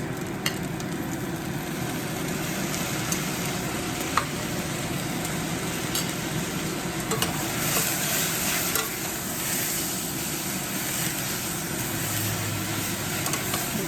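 Turmeric and tomato are stirred into a kale lentil curry in a hot pan, with a steady loud sizzle and frying hiss running throughout and occasional spoon scrapes close by.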